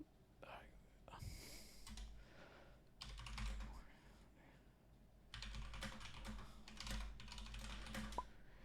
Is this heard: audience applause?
no